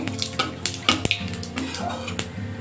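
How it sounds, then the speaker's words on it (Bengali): Whole cumin seeds and bay leaves sizzle in hot oil in a pan while a spatula stirs them, with a continuous close frying hiss broken by several sharp scraping clicks against the metal. "একটু নাড়া চাড়া করে নেবো জিরেটা একটু ভাজা ভাজা হওয়ার জন্য।"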